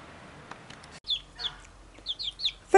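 Chickens cluck and squawk in short, scattered bursts over a quiet outdoor background, several calls close by.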